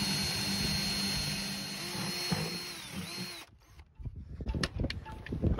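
Power drill boring new mounting holes for a replacement bilge pump on a boat, a loud steady whine that cuts off abruptly, followed by clattering knocks and rustling.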